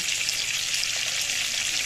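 Pointed gourd (potol) fries in a pan, giving an even, bright, hissing sizzle that stays close and constant throughout, with no voices over it.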